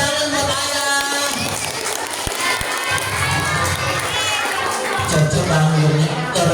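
A crowd of children at a school Ramadan storytelling event cheers and claps for a father, a lively, continuous burst of mixed shouting and applause close by.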